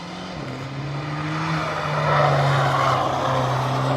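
A Mercedes-AMG GT 73 driving hard on a race track, its engine droning with a steady pitch that shifts gear once early, growing louder as the car approaches with tire and wind noise.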